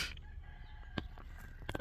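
A chicken clucks and crows outdoors at a distance, a few faint sharp calls breaking through a quiet background near the middle and end.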